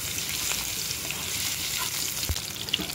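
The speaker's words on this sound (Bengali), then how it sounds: "রসুনটা ভাজা হয়ে একটা সুন্দর গন্ধ বেরোচ্ছে।" Crushed garlic fries in oil in a wok with nigella seeds, giving a close, even sizzle with a few light stirring taps and scrapes. The sound is moderately quiet, with no voices.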